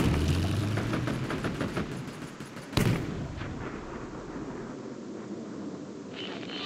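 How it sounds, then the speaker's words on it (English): Cannon artillery fire in the World War Armies strategy game: loud, booming blasts roll together, one sharp crack lands midway, then a rumbling tail fades out. "Prepare your cannons!"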